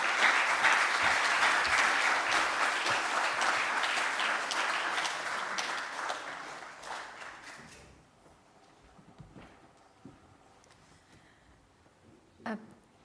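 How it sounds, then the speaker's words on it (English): Audience applause at a farewell meeting, a loud, dense wash of clapping for about eight seconds that then fades out, leaving a quiet room with a few scattered claps. "also a big round of applause"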